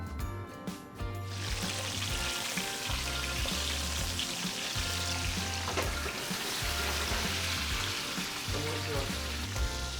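Stuffed calamari fry in hot oil with a steady, close sizzle that starts after a brief pause and holds loud and continuous throughout.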